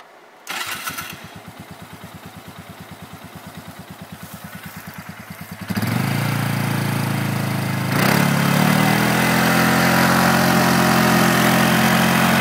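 A motor vehicle engine cranks and starts, then idles with a rapid loud pulsing before being revved hard for a burnout, holding a loud sustained roar that climbs again near the end.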